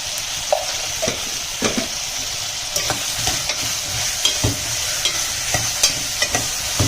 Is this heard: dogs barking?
no